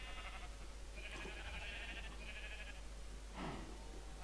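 Sheep in the Minecraft video game give a bleat or two in the middle of the clip, followed by a short louder cry near the end, all over a steady low background hum.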